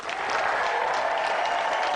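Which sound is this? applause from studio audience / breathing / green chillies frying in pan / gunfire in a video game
applause from studio audience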